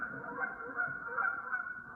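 A flock of geese honking continuously, many overlapping calls close by as the birds are startled and take off, with no talk.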